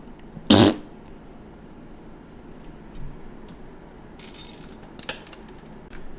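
A voice makes a single short, loud imitated fart noise, followed by faint background rustles and clicks.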